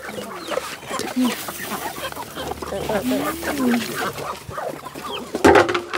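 Chickens cluck and murmur nearby in a busy farmyard, with scattered calls throughout and a louder squawk near the end.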